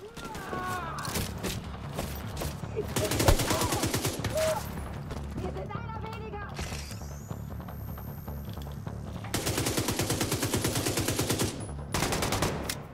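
Automatic gunfire rattles in long rapid bursts during a Tom Clancy's The Division 2 firefight, loud and close, with shorter single shots and someone talking in between.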